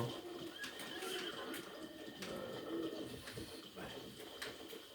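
A horse in the Zelda: Breath of the Wild video game neighs and whinnies amid soft bird coos, with faint hoof clip-clops and quiet game ambience.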